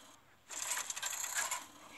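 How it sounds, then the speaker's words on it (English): A deck of cards shuffling in the Hearthstone video game: a dense, rustling ripple of card sounds that starts suddenly after a short quiet lead-in, runs steadily for about a second, and then fades out. "Shuffling cards"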